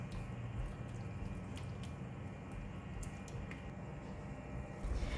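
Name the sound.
stirring sambal paste with water in a pan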